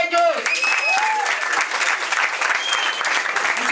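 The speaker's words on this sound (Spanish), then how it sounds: "un aplauso para ellos" A crowd applauds at a freestyle rap battle event, sustained clapping and cheering with a few whistles cutting through the steady roar.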